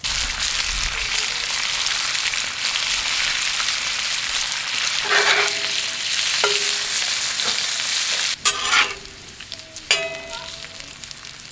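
Beef bacon rendering in a pan gives a steady, bright, close sizzle throughout, with a few clinks and scrapes of stirring near the end and no talk.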